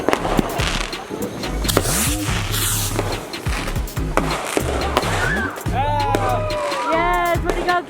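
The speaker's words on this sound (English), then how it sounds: "Thank you for sharing all these fireworks with us." Fireworks and sparklers go off outdoors at a backyard gathering in a burst of crackles, pops and sharp bangs with rising whistles near the end, while people talk and call out over them.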